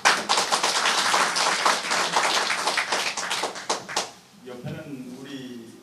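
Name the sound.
applause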